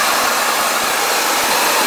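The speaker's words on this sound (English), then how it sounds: "Let's take a look at the engine running on this 2002 Ford Expedition." A 2002 Ford Expedition with a 5.4 liter engine and 113,000 miles runs smoothly, a loud steady whooshing hum close by with a low underlying rumble and no speech.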